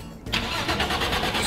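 Car engine in the Roblox game Driving Empire starting up and running steadily at close range, a rough mid-pitched drone with a faint rhythmic pulsing, alone without talk.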